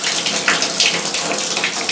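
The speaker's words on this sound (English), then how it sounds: "And I'm pretty liberal when I pour from this jug." Water poured generously from a jug over potted orchids during watering, a steady splashing pour with bright hiss-like texture that carries at fairly constant loudness throughout, close by and without talk.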